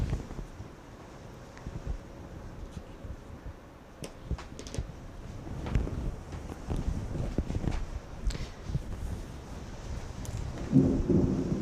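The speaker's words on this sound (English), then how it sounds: "hopefully you're not hearing the rain outside the window, because we do have a storm going on" Storm outside a window during an indoor quilting session: a steady broadband wash of rain with low rumbling swells and scattered sharp taps, fairly loud and continuous throughout with no talk.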